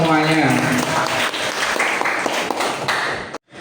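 A classroom of students bursts into clapping after answering a teacher's hadith questions, a dense burst of many hands with some voices mixed in, ending abruptly.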